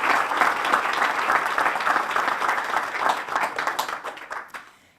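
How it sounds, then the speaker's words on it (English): A crowd at a park groundbreaking ceremony applauds a city council member, lively clapping that stays strong for several seconds before tapering off into quiet. "Let's give him a round of applause."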